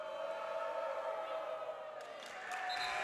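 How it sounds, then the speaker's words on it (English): Steady crowd murmur and chatter fill a high school boys basketball game in a fieldhouse, Mansfield at THS, holding as a continuous moderately loud wash with a slight swell near the end. "You can definitely hear the crowd mood right now in Rebowen Fieldhouse."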